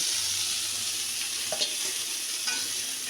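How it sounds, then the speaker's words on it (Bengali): Cauliflower frying in a pan for a katla fish curry gives a steady close sizzle, broken by a couple of brief stirring scrapes, with no talk. "আমরা খুব বেশি ভাজলাম না ফুলকপিটাকে জাস্ট একটু লাল করে গন্ধটা জন্য আমরা ভেজে নিলাম"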